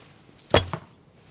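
Heavier arrow loosed from a Simsek Sipahi short bow rated 38 lbs at 28 inches, a single sharp twang and thwack followed by a brief second knock, close and loud against a quiet background.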